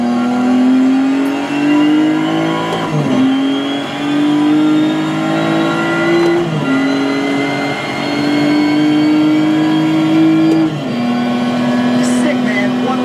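A racing video game car engine revs steadily and loudly throughout, its pitch climbing through each gear and dropping sharply at shifts near three, six and eleven seconds, with someone talking underneath.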